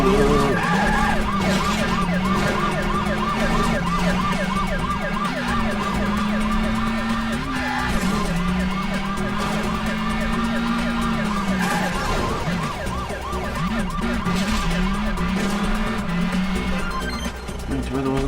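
Police car sirens wail through a car chase in The Italian Job video game, with steady rising and falling siren tones layered over continuous engine roar and game music, loud and sustained throughout, with a voice speaking over it.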